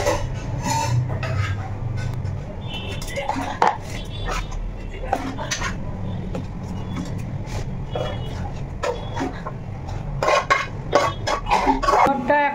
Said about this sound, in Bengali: আমার মনে পড়লো চাটনিগুলো ভরে কড়াইটা খালি করে ধুয়ে ফেলি।